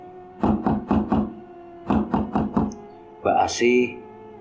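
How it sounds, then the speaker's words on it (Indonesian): Two quick bursts of four sharp knocks on a door at night, close and loud, followed by a brief voice or creak at the end. "Tiba-tiba Bu Asih mendengar orang mengetok-ngetok pintu."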